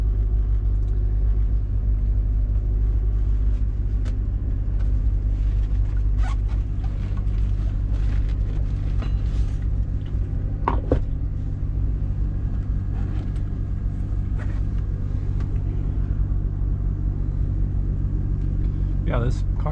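A K24A-swapped Honda Element with a six-speed manual and all-wheel drive, heard from inside the cabin while driving: a steady, loud low engine drone and road rumble throughout, with a voice talking over it at times.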